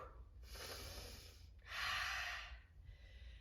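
Two heavy, breathy exhales during a dumbbell HIIT workout, the second longer and louder, close and forceful with a short pause between them, no speech.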